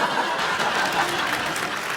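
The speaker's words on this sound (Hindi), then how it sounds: "जोरदार तालियां।" Dense, steady applause from a TV comedy show studio audience fills the whole stretch, a continuous wash of clapping with no voices standing out.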